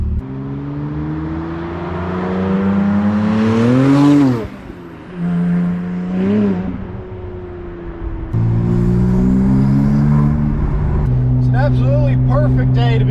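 A Porsche 997 Turbo race car, rebuilt after a crash and made road legal, accelerates hard under boost. Loud, close engine notes climb through the gears with brief shift dips, and a rising whine accompanies them.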